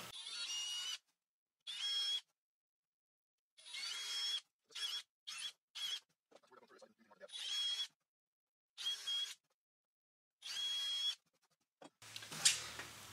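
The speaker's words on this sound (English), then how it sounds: "I've got my drill bit set, so I'm going to go ahead and drill these out" Several bursts of a power drill whining at high speed while drilling holes in wood, each lasting a second or so with pauses between, close by and fairly loud.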